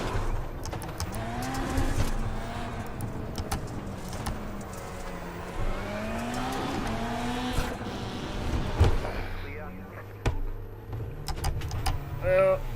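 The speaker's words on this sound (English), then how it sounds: "you've really got to manipulate the car to get it to slide around these corners" Race car engine revving and sliding around corners on a dirt track, pitch rising and falling with each slide, with someone talking over it throughout.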